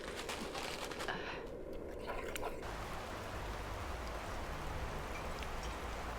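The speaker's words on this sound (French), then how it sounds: "c'est le meilleur moment quand on voit que la pluie tombe et qu'on est à l'abri" Steady rain patters and hisses quietly on a shelter at a mountain bivouac, with faint scattered drips over a constant soft wash of noise.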